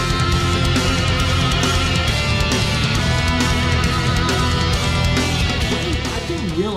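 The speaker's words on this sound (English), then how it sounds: "I didn't realize a cello could produce sounds like this." Heavy metal cello music: dense, loud, distorted bowed cello lines with driving drums filling the whole stretch continuously, with no talking.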